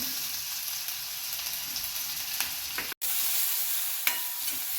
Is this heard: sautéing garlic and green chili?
yes